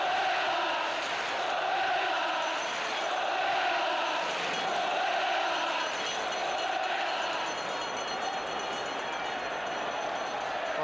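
A packed Wembley football crowd at the 1973 FA Cup Final between Sunderland and Leeds roars in sustained, dense cheering that swells and holds from far and near across the stadium.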